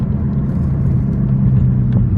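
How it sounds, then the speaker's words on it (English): Loud, steady low rumble inside a moving car, a continuous road and engine drone with no talking. "This car is the loudest ever."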